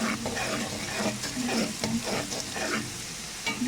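Sliced onions fry in oil in a pan while being cooked from pink to golden for matar pulao, giving a continuous crackling sizzle broken by repeated scraping stirs. No voice is heard.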